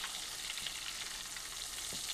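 Steady crackling sizzle of food frying in hot oil, dense and continuous throughout with faint clinks of stirring.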